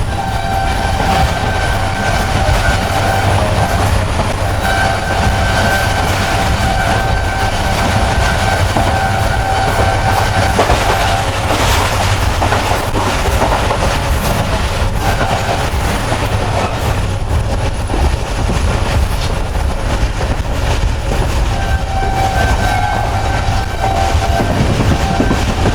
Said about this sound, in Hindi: लियाकतपुर से काफ़ी अच्छी स्पीड में ट्रेन हमारे थ्रू पास करने लगी है